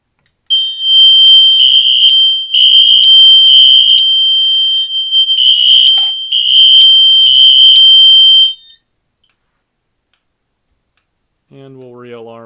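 A Faraday Chevron fire alarm system sounds during a smoke test, giving loud, shrill electronic beeps in uneven pulsed bursts for several seconds before cutting off. A voice speaks briefly near the end.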